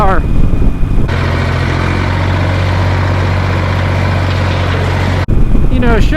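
A Harley-Davidson Superlow 883 motorcycle engine gives a steady, loud, low rumbling idle for several seconds, with brief talk at the start and end.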